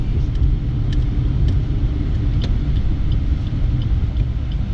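A car engine running steadily while the driver moves through the gears on the road, a constant low rumble with faint clicks and no clear revving.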